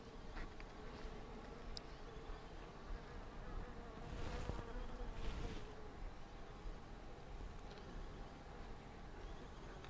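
Honeybees buzz at an open hive in a continuous, dense drone, with individual bees passing closer and louder at moments, steady throughout with no clear talking.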